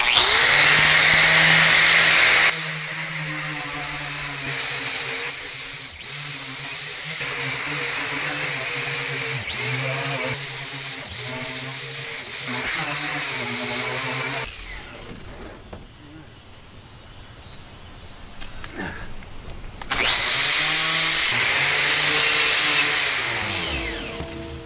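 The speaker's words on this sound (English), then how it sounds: "I use a grinder. I'm gonna grind it, clean it up a little bit" A grinder strips rust, oxidation and paint from a metal seam, a loud whirring drone that rises and dips as it works, stopping briefly midway before starting up again.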